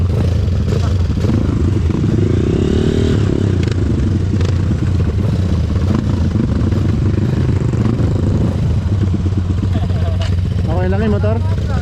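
A dirt bike engine running on a rocky enduro trail, loud and continuous with clattering and scraping over stones, while riders talk nearby.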